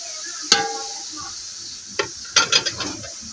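Onions frying in hot ghee in a metal pan: a sharp metallic clank, then a cluster of quick stirring scrapes and knocks over a low, faint sizzle, close by.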